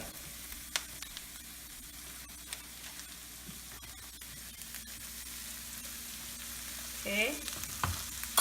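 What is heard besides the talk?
tuna omelette frying, basted with oil and butter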